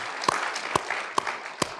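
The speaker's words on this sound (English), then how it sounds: "I guess that's applause" At a panel event on judicial ethics and the Supreme Court, an audience gives light applause for a guest family. It is a short, thin patter of clapping, with a few sharper claps standing out.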